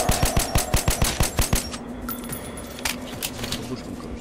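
Rapid bursts of gunfire in the video game Metro Last Light Redux, a quick evenly spaced volley of sharp shots, then scattered shots and clinks, fairly close and loud.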